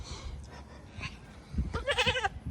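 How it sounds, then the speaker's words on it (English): A goat on a small farm that also keeps horses, donkeys and cows, bleating in a short quavering call near the microphone toward the end, after a stretch of low background rustle. "That's my favorite goat, Sissy."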